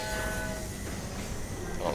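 A train rumbles past in LEGO City Undercover, a dense, loud, steady roar of rolling wagons with a faint horn-like tone, filling the whole moment without talk.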